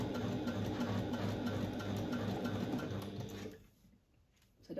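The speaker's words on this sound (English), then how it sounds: "I'm going to just hold it flat and in place with my stitch ripper as I sew." Sewing machine running steadily as it stitches fabric held flat with a seam ripper, a dense continuous whir close by that cuts out abruptly near the end and then starts up again.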